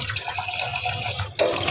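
Running tap water splashing over vegetables being washed, a continuous rushing flow that swells louder near the end, close by, with no talk.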